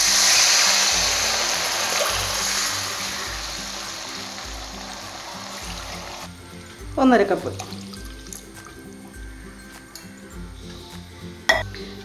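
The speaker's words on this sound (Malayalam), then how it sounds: "അപ്പം നമുക്ക് വെള്ളം ഒഴിച്ചു കൊടുക്കാം." Water being poured into a pan of Kerala rava upma, a hissing pan sound that drops away, then a short splashing pour and a clink, with a voice speaking briefly.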